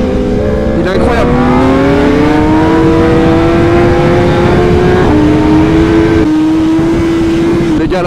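A BMW M1000RR superbike engine at speed, a loud sustained high-pitched howl that climbs steadily, dips briefly at a gear change, then holds, with a rider talking over the wind and engine.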